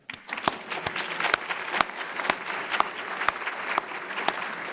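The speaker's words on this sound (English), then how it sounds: "So it deserves an applause." Sustained applause from an audience at the 2023 National Academy of Medicine annual meeting, steady dense clapping with sharper individual claps standing out throughout, moderately distant and without talk.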